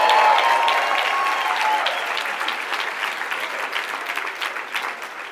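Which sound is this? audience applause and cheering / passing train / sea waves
audience applause and cheering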